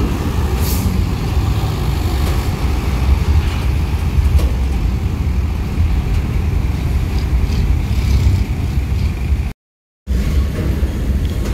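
A tour bus with a Trijaya Union body, at a gathering of tour coaches, roars loudly and steadily as its engine is revved, with a brief cut to silence near the end before the rumble resumes.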